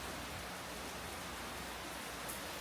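Heavy rain pours down in a steady, dense hiss with no breaks, falling during a rainstorm while a project car is brought home, and no one speaks.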